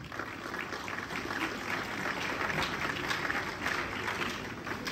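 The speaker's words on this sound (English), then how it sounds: "please give them a clap" A crowd at an 87th birthday celebration claps steadily, a dense, even wash of applause that holds at a constant level throughout with no voices on top.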